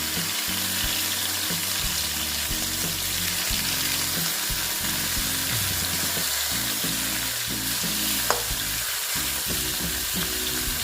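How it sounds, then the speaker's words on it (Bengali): Pieces of ash gourd frying in a pan over lowered heat, giving a loud, continuous sizzle with stirring and a small clink partway through. "কমিয়ে একটু আস্তে আস্তে এগুলোকে ভেজে নেব দেখো বন্ধুরা এটা আস্তে আস্তে আমি ভেজে নিচ্ছি"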